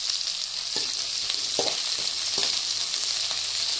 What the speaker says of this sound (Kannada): ಇವಾಗ ಈರುಳ್ಳಿ ಚೆನ್ನಾಗಿ ಫ್ರೈ ಮಾಡ್ಕೊಳ್ಳಿ.